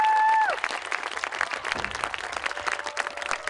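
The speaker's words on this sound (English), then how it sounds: "Can we give them a big round of applause?" Seniors at a Mehlville High School evening outdoor gathering receive a round of applause, scattered clapping heard moderately distant after a brief tone cuts off at the start.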